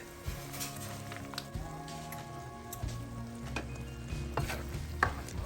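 Spaghetti sauce stirred in a pan, a quiet close scrape and soft simmering mixed with clinks from the utensil, some low hum under it and no talking.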